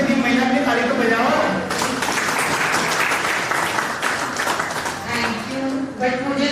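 A group applauds the women on stage on Women's Day during a Goa trip, with dense, sustained clapping that swells in the middle, while a voice speaks under it at the start and end.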